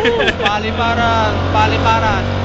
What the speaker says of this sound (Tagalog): Malakas ang motor.